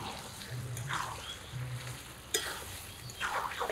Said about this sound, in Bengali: এখন নেড়ে চেড়ে মিশিয়ে ঢেকে ঢেকে রান্না করব।